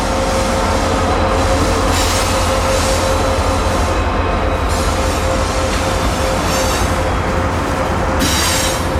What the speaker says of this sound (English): here comes what looked like a unit grain train northward toward the river.